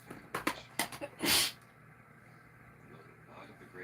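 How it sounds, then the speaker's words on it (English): During a live painting session, a single close, sharp sneeze bursts out after a few soft, brief breathy sounds, followed by quiet room tone. "I sneezed."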